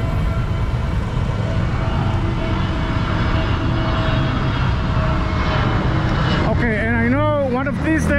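An airplane passes overhead above Guatemala City, a broad, steady roar of engine noise filling the scene for several seconds before a voice starts talking near the end.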